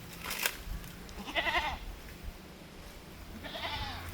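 Goats offered for sale on a Kerala livestock farm bleat twice, short wavering cries spaced a couple of seconds apart over quiet background noise.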